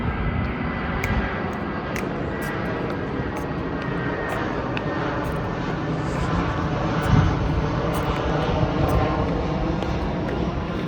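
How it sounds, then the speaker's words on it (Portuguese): An airplane passes overhead as a broad, steady engine roar that swells slightly toward the middle and holds at a moderate distance throughout, with no talk over it. "Intervalo para o avião passar."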